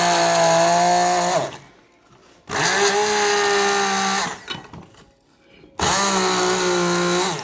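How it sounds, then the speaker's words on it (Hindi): A grinder jar blends guava and banana for a smoothie in three loud, close bursts of high-pitched motor whine. Each burst drops in pitch as it stops, and short quiet gaps with faint rattling fall between them. "तो इसको हम डालेंगे और इसको हम ग्राइंड करेंगे।"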